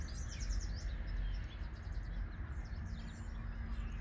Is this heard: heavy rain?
no